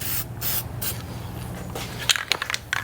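Primer sprayed from an aerosol can onto a welded and ground steel engine stand, giving bursts of steady hissing with short pauses and a few sharp clicks near the end, close and alone.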